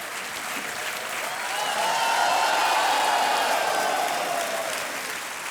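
Studio audience at a television quiz show breaks into sustained applause, the clapping swelling louder through the middle and easing slightly toward the end, with no voices over it.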